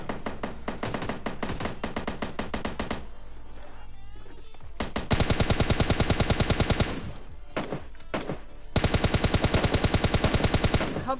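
M16 rifle gunfire in the mobile battle-royale game PUBG Lite: loud, sustained rapid automatic bursts with a short pause in the middle, close and dominant, with no talk over them.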